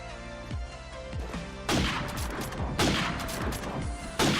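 Gunfire in Call of Duty 4 ProMod on the Citystreets map, shots banging through a wall: bursts of rapid, loud automatic fire with short pauses, ringing echo tails between them.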